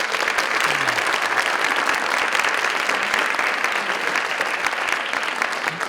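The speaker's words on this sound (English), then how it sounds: "Applause." Audience applause at an Italian creativity festival award ceremony at the Consulate General of Italy, a steady, dense round of clapping from a sizable crowd, sustained and even for the whole stretch.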